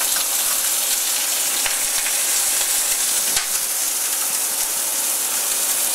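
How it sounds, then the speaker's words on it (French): Scallops sear in a very hot pan with a loud, continuous, close-up sizzle and fine spitting crackle that holds steady throughout, with no voices. "notre poêle est très chaude, on va donc saisir nos noix"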